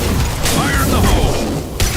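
A grenade explodes in a Mass Effect firefight with a loud, close, rumbling boom. Mechanical clatter follows, and voices talk over the blast.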